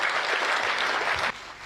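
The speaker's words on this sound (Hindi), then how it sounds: "थोड़ा तालियों का उत्सव कर दीजिए" Loud, dense applause from an audience at a Hindi kavi sammelan poetry gathering, steady clapping that drops off sharply near the end.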